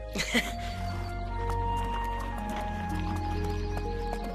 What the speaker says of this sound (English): Isn't that Thunder Master Luangdoi's horse?